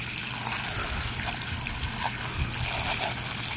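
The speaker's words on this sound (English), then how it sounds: "This is just spraying it with the regular water pressure." Regular-pressure water from a hose sprays steadily onto gummed-up mower blades, a constant close hiss and splatter with no voices.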